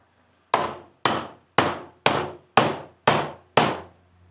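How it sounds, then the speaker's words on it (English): Seven sharp, evenly spaced hammer blows strike a Twin Cam motorcycle engine case to split it for flywheel removal, each a loud metallic knock with a short ringing decay, close and with no talk. "we're gonna end up hitting this with a hammer"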